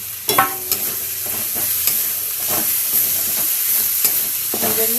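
Eggplant fries in a pan as green chili and ginger paste go in, producing a loud steady sizzle with scattered sharp clicks and scrapes of stirring close by.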